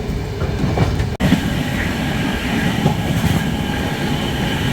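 Loud, continuous rumble and clatter of the Telangana Express train passing close by during a crossing at Okhla, heard from aboard an Indian intercity express, with steady wheel noise and no talking.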